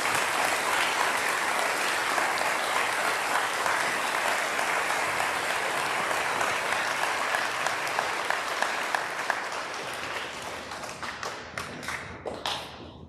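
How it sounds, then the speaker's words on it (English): A school assembly audience claps for veterans on Veterans Day, a sustained dense roomful of applause that stays steady and then thins into scattered individual claps and thuds as it dies away. "Please give them a round of applause."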